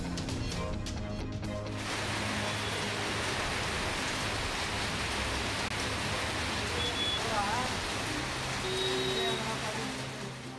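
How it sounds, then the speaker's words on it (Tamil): Heavy rain pours in Tamil Nadu as a dense, steady hiss of rainfall on surfaces, loud and continuous throughout, with a brief burst of other sound at the start. "தமிழ்நாட்டின் பல இடங்களில் கொட்டிய மழை"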